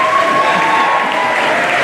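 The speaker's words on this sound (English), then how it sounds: "let's give a round of applause to your parents and your families and all your loved ones" Loud, dense applause from a large graduation audience for parents and families keeps a steady roar through the whole moment, with faint crowd murmur underneath.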